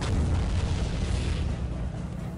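A grenade goes off in the Soldier of Fortune shooter, a dense, loud blast whose low rumble rolls on steadily for a couple of seconds with no voices over it.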